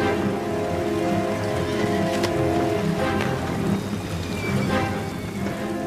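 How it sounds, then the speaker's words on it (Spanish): Heavy rain pours over a forest battlefield in a steady, dense hiss that stays loud and unbroken from start to finish, with no voices over it. "La lluvia les arrebataba las armas"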